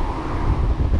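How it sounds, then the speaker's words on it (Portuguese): Strong wind gusts roar and buffet loudly and close against the microphone during an e-bike road ride toward Cabo Espichel. It is a dense, low rushing sound with no speech. "Já o vendaval."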